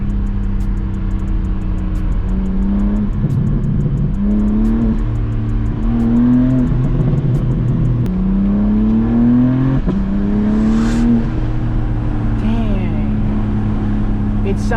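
A BMW G80 M3 fitted with large catless downpipes, revved up again and again in a series of rising, snarling pulls, loud and close, with brief drops back toward idle between pulls.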